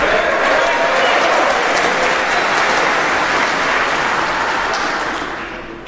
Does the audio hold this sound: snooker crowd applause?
yes